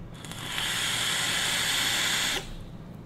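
Vapour hissing from a Geek Vape Squonk kit (GBox) during a single draw, a steady close airy hiss lasting about two seconds that cuts off abruptly, then faint background noise.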